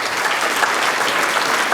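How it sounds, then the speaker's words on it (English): An audience at a valuation conference gives a brief, loud round of applause for a colleague's promotion, dense overlapping claps lasting under two seconds with no voices. "just a clap for Brad"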